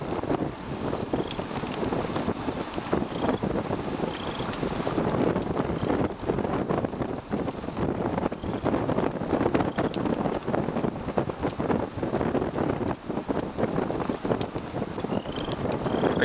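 Strong, gusty wind near a tornado in South Dakota roars and buffets the microphone continuously, with heavy turbulent rushing and occasional sharper blasts.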